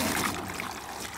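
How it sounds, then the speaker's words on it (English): Water rushing steadily from a tap, a brief continuous splashing flow close by. "Just turn on the water."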